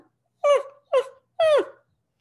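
A person imitates a hurt dog whimpering, giving three close, high, falling whines with short pauses between them and no other sound around them.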